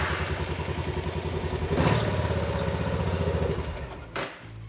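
An ATV's engine fires up right after a new battery is fitted and settles into a steady, close idle with a rough mechanical clatter, ending in a brief thump.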